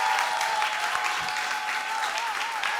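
Sustained applause from the audience for Zara, the winning poet at the Asia House Poetry Slam 2019, a dense, steady wash of clapping heard close and evenly loud throughout.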